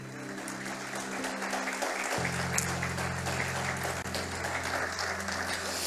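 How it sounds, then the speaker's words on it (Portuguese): A church congregation applauds at a family worship service, a steady dense wash of clapping that holds throughout, with a sustained organ or keyboard tone underneath. "dê uma salva de palmas a Ele"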